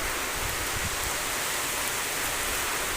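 Heavy unseasonal summer rain during a windstorm, a dense, steady hiss of downpour filling the whole stretch at an even, fairly loud level with no voices.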